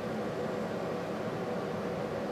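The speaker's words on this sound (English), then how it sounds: "If you hear a little noise in the background, that's the air conditioner." An air conditioner runs in a restoration workshop, a steady broadband hum and whoosh of moving air that holds an even level throughout, with no talking over it.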